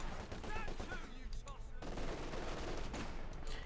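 Machine gun fire in the Company of Heroes 2 strategy game, a dense crackling stream of shots amid battlefield noise, steady and moderately distant.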